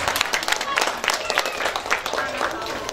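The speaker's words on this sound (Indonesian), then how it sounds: "Tepuk tangan buat kita semuanya." Audience at a workshop giving a burst of applause, dense clapping close by with a murmur of voices mixed in.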